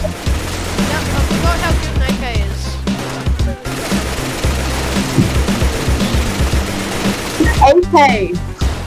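Gunfire cutting down zombies in the video game Bloodfest, with scattered shots and bursts under steady talk, plus a busy stretch of loud crackling near the end.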